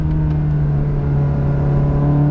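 A Ferrari 360 Challenge Stradale engine holds a loud, steady, close-up drone with strong low harmonics as its exhaust valves open, with no talking over it.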